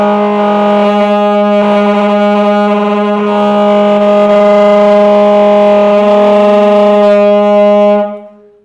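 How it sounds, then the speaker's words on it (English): Saxophone held on a single F while the player hums Happy Birthday into the horn, a loud, buzzy growling tone with a shifting vocal melody underneath, ending in a quick fade. "I'm going to sing Happy Birthday to you, and I'm going to just only play an F."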